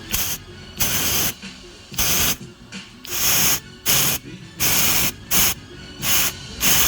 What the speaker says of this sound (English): we're going to blow some air in it and see if we get the beepy sound